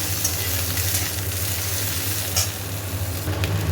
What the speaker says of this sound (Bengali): এবার ঢ্যাঁড়সগুলো একটু ভাজা ভাজা হোক